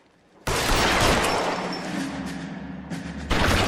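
Gunshots in L.A. Noire, a loud burst of gunfire at about half a second rolling into a long echoing barrage, with another sharp shot near the end.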